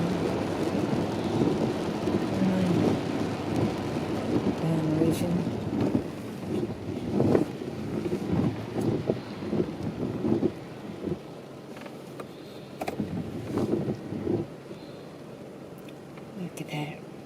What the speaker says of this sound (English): See that rain out there on the street?